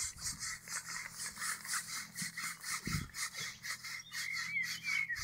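Fingers scratching a pet's fur, a quiet rhythmic rubbing and rasping repeated steadily and close up, with a soft snort or sniff partway through and no talk.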